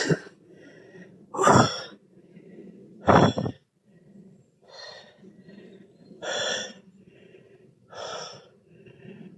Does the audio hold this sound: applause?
no